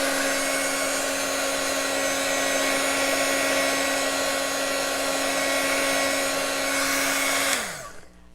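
A hair dryer blows on wet ink, making a steady close whine with a constant pitch that winds down and cuts off near the end.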